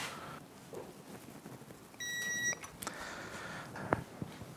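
A torque wrench beeps during tightening of bolts to 64 newton meters on a Honda Grom top end with a big bore kit, giving a few short electronic tones over light workshop rustle.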